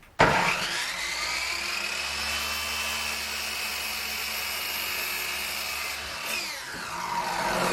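A power saw cuts a small trailer's tongue to length, a loud steady whine holding for about six seconds before dipping briefly and picking up again, close and continuous with no talking.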